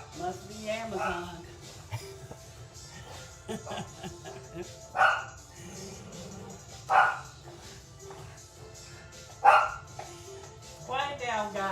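Dogs bark in short bursts, several sharp barks spaced a couple of seconds apart, over people talking in a room.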